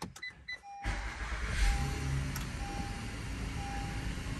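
A 2020 Honda Odyssey minivan after a transmission fluid change: clicks, then the engine cranks and catches into a steady close idle with a faint whine.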